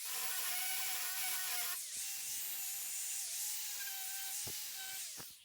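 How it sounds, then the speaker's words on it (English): An angle grinder with a flap disc cleaning steel before welding, a steady high whine with slight pitch dips as the disc bites the metal, fairly quiet and alone with no voices. "take your grinder, use a flap disc or a grinding wheel, and clean your material where you're going to weld."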